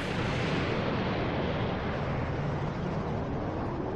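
Rocket launcher explosion in an animated cartoon, a loud sustained roaring blast filling the whole clip with dense, rumbling noise and no break or talk.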